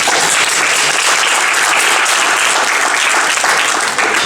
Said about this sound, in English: Another round of applause for Brother Thesis.